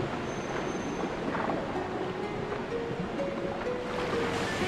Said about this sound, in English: It's a shortcut behind the waterfall and I have never seen that before.